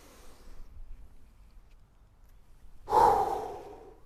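A sharp, breathy exhale during a warm-up stretch, bending down between the legs, loud and close, following a few seconds of quiet breathing.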